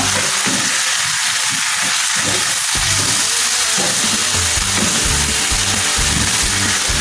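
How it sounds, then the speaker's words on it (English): Salmon and dumplings sizzle loudly in a hot frying pan while being stirred, a steady bright crackle of oil with repeated scraping and clattering of the utensil against the pan, close and continuous. "Now I'm gonna stir everything together"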